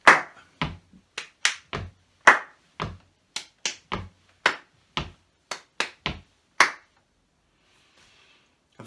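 A body percussion pattern of stamps, finger snaps and claps, played as crisp, evenly spaced sharp hits in a repeating rhythm, close and clear in a quiet room, stopping before the end.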